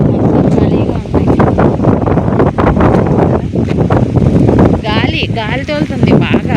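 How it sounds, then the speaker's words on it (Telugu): Strong hot wind blowing across empty harvested fields on a scorching day, heavy low buffeting against the microphone throughout, with a voice talking over it near the end. "గాలి తోలుతుంది బాగా."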